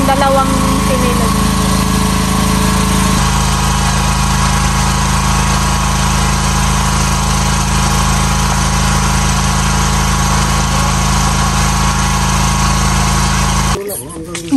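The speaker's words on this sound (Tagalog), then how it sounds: "kung maingay kasi pinapatubigan ni Kuya Efren yung itong dalawang sinilog." A small motor runs loud and steady with a constant drone and rattle, close by, then cuts off abruptly at the end.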